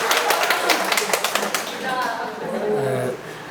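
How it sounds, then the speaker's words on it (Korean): An audience at a talk applauds in a quick burst of many hands clapping, which fades as a voice starts speaking over the room. "박수 한번 부탁드립니다"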